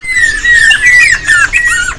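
A female black-cheeked bird at a bird market gives loud, close squawking calls: harsh repeated chattering cries that run almost without pause for two seconds.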